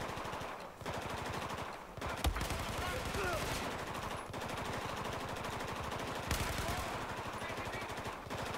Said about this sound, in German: Worauf ballert denn der?